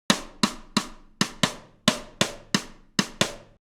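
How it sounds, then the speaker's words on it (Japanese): Sharp woody clave strikes play a 3-2 clave pattern, three hits then two, repeating twice with crisp decays and nothing else sounding. "今聞いてもらったのはクラーベの中でも3-2クラーベと呼ばれているもので"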